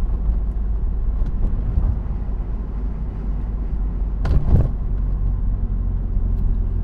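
Car cruising steadily at moderate speed, a continuous low road and engine rumble heard from inside, with one brief louder thump partway through and no one talking.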